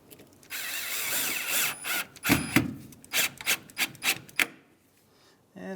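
A power drill driving screws to refit hose clips on a 1992-1996 Ford F-150 cowl, heard close up as a whirring, ratcheting spin followed by a rhythmic run of short clicking bursts, without speech.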